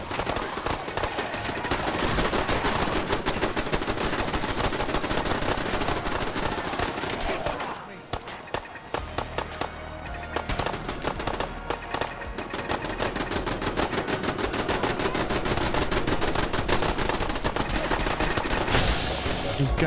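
Automatic turrets fire on ghouls in Fallout 4, a dense, continuous rattle of gunfire that persists across the whole stretch, briefly thinning midway before resuming at full volume, layered with game music and effects.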